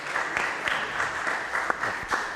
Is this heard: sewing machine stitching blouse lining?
no